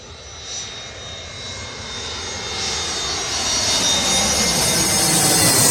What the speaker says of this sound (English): that's actually the Neo version of the Airbus A321